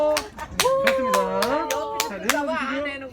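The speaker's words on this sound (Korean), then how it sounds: "자 하나 둘셋호 박수 한번 주세요." Guests at a small first birthday celebration clap in a handful of sharp, separate bursts spaced across a few seconds, with close sing-song voices and someone speaking over and between the claps.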